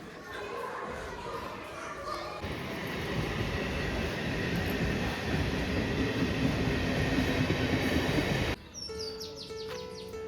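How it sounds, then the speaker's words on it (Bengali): A train pulls out of a station with a loud, steady rumble and clatter of rolling rail cars that swells and then cuts off abruptly, with birds chirping in the background. "স্টেশনে এলাম আর ট্রেনটা বেরিয়ে গেল"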